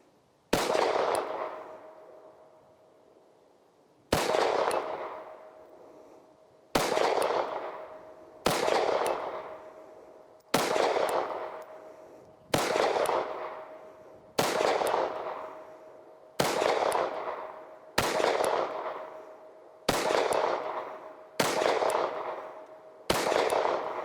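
FN 509 Edge pistol fired at a target: sharp, loud single gunshots, about a dozen spaced roughly one to two seconds apart, each with a brief ringing decay, no talking.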